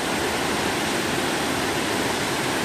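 A nearby waterfall on the Coomera Circuit at Binna Burra, swollen by recent rain, rushes in a loud, unbroken broadband roar from about twenty meters away, with no voices over it.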